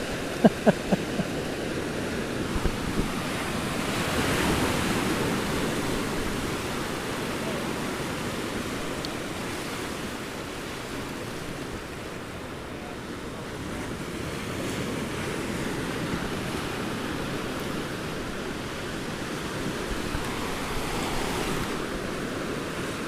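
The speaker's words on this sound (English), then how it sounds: "I stand here looking out into the channel, into the ocean, watching the white caps, the waves roll in, and then go back out again." Ocean waves roll in and wash back on a channel shore with whitecaps, a steady broadband surf roar swelling and easing, mixed with wind buffeting the microphone and no talking.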